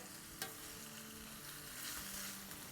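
Vegetables for chow mein sautéing in a hot pan, a steady close frying sizzle with occasional stirring clatter and a brief utensil knock.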